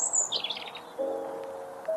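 An American robin (Turdus migratorius) sings a brief phrase of clear, high whistled chirps that sweep down, followed by a lower sustained note, faint and alone against a quiet background.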